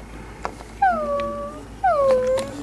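A pet dog whimpers indoors in two drawn-out, high whining cries, each sliding downward, close and fairly loud over a quiet room.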